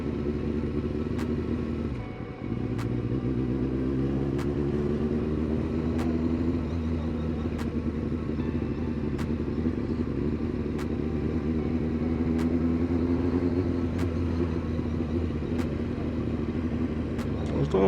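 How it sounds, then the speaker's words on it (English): A Kawasaki ZX9R motorcycle ridden over a rough city road in Birmingham, its engine a steady, close drone throughout, mixed with constant wind rush and a brief dip in level near the start. "This bike is not built for this road, man."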